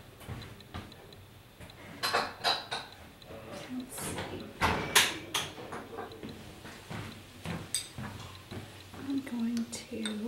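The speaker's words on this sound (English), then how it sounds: "I'm gonna get a little bowl and spoon some of this out of there so I can taste it" A spoon clinks against a small bowl while beet horseradish relish is served out, with light scattered taps and scrapes under a person speaking quietly.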